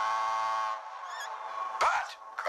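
A tugboat's steam-style whistle blows with a long tonal blast, its pitch wavering, followed by breathy bursts and shorter toots.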